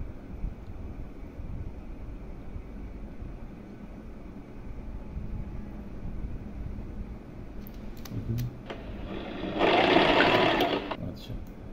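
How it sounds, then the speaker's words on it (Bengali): A sewing machine stitches fabric, beginning with a faint low motor hum and quiet handling. It then breaks into a loud, fast burst of rattling stitches for about two seconds near the end. "এখান থেকে সেলাই শব্দ শুরু হয়েছে এই পর্যন্ত"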